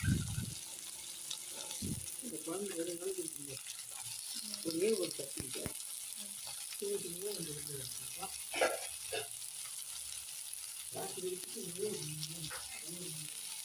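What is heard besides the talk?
garlic frying in oil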